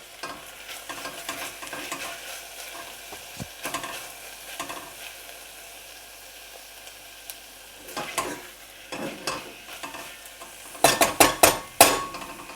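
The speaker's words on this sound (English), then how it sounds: "Just want to wilt them down in the heat of the onions." Basil leaves wilt in a pan with hot onions, a soft sizzle broken by scattered stirring scrapes and utensil clinks, growing busier toward the end.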